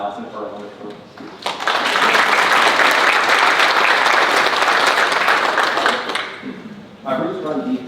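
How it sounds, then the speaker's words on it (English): Sustained audience applause fills a graduation ceremony hall, rising abruptly, holding loud and dense for several seconds, then fading, with a voice speaking before and after. "Can everyone just give another round of applause for Allison for her wonderful speech?"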